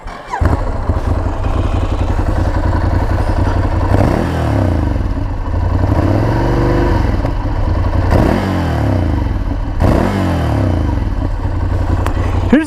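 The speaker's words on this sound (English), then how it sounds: "let's listen to this thing. 2017 Ducati Scrambler Desert Sled" A 2017 Ducati Scrambler Desert Sled motorcycle engine runs loudly up close, rising and falling through several throttle revs over a steady idle rumble.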